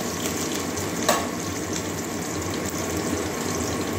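Whole cardamom pods, cloves and cinnamon pieces sizzle in hot oil for a paneer and soybean curry, a steady close frying hiss with one brief clink near the start.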